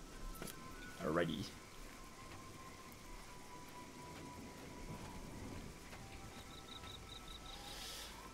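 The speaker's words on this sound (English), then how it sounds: "Raining, but yeah, it's nice to see some rain" Steady rain falls across an outdoor area in the game Oblivion, a soft continuous hiss with a brief louder thump near the start and faint tonal game sounds toward the end.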